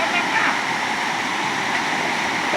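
Strong, fast-flowing river water rushes steadily. The roar is dense, loud and continuous, like a close torrent.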